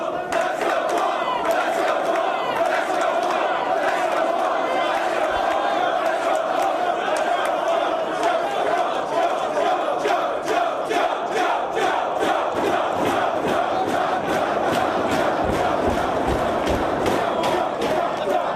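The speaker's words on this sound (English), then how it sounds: "This crowd in Dayton showing their support for both men." A wrestling crowd in Dayton at a CM Punk versus Samoa Joe match: a dense, loud arena roar that holds for the whole stretch, with rhythmic chanting and clapping pulsing through it.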